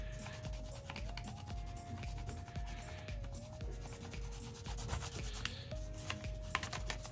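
A crayon rubs back and forth across paper to trace an outline, giving faint, quick scratchy strokes up close, with a steady electronic tone in the background.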